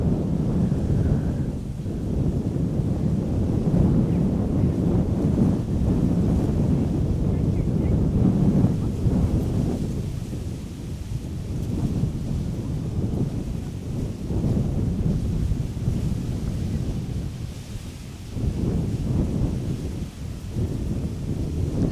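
Strong wind gusting across a microphone at Amsterdam Schiphol Airport, a loud, continuous low roar that swells and dips throughout with no pauses.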